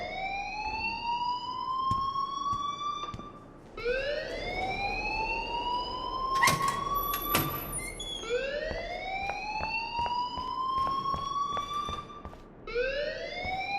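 An electronic alarm blares in the video game Life is Strange, a loud repeating rising wail that sweeps upward in regular cycles of a few seconds, with a brief sharper burst in the middle.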